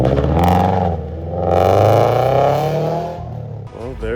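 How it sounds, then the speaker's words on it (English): A Scion FR-S sports car revs and pulls away, its engine note rising and then falling as it recedes, with a clattering burst near the end. "There she goes, man."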